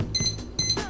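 A phone gives two short high electronic beeps while an alarm timer is set in a home kitchen, quiet and spaced about half a second apart.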